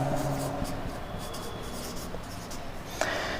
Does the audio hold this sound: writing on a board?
yes